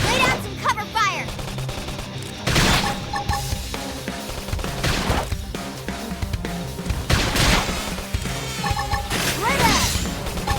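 Xenoblade Chronicles X combat is full of repeated gunfire bursts mixed with crashing impacts and whooshes, with battle voices shouting over the steady clamor.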